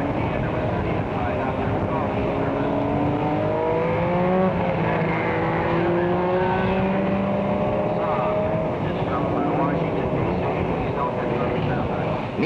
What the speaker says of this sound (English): Beetle fans all across the country just love to get off the road and race their cars.